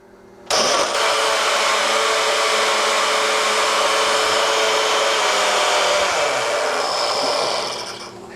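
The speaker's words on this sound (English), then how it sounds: "get ready for the sound because it's going to blend up" A blender whirs through a high-nutrition milkshake with ice, starting abruptly and running as a loud, steady, high-pitched motor roar for about eight seconds before easing off at the end; no voices.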